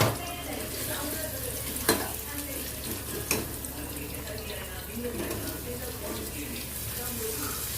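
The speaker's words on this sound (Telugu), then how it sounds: "గోల్డెన్ బ్రౌన్ కలర్ వచ్చే వరకు కొబ్బరి ముక్కలు వేయించుకుందాము" Coconut pieces fry and get stirred in a pan, a steady low sizzle with a couple of sharp utensil knocks against the metal, close and moderately loud, with no talking.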